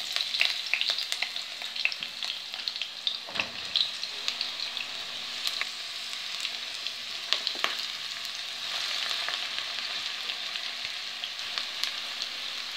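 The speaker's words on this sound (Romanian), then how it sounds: "Acum o să punem ulei într-o tigăiță. Acum o să punem ceapa." Onion sizzling in oil in a small frying pan, a steady hissing crackle with scattered pops and one louder clatter partway through, close and continuous with no talking.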